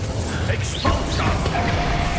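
Expulso explosion spell in Hogwarts Legacy: a sudden crashing burst with mechanical clatter and rumbling debris, moderately loud, followed by a lingering whooshing tail.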